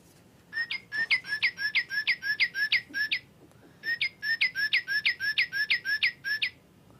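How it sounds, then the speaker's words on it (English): Birds including a young cardinal sing in two bright bursts of rapid, repeated whistled chirps, each run of about a dozen notes, over a faint background murmur. "the young cardinal joined the other birds in singing"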